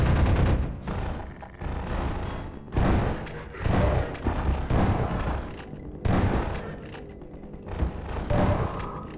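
Gunfire in the video game Half-Life 2 comes as a series of heavy, booming shots and thuds spaced a second or two apart, loud and close throughout.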